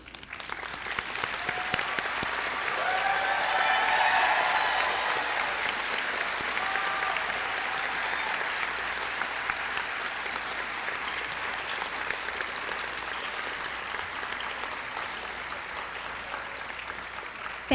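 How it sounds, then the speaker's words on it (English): Steady, sustained applause from a large crowd at a high school commencement ceremony, swelling early, then holding at an even level for nearly eighteen seconds with no talk over it. "please stand and face the audience while we give you a round of applause."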